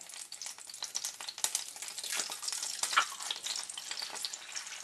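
Eggs frying in a pan for chilaquiles, a loud, close sizzle with irregular bursts of spattering and stirring scrapes that rise and fall without any voices.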